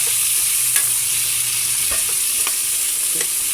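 Tomatoes and ginger sautéing in a pan for salmon belly sinigang, a loud continuous sizzle and hiss with occasional soft stirring taps, close up and without talk.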